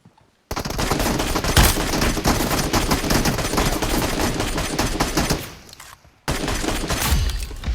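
Sustained automatic rifle fire from an M7 in the PUBG Mobile game, a loud, dense stream of rapid shots lasting several seconds, with a brief gap before another close, heavy burst resumes.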